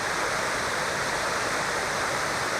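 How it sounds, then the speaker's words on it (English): Jones Run Falls in Shenandoah National Park roars as a steady, dense rush of falling water. It is loud and constant throughout, with no voices. "Getting our first look of Jones River Falls."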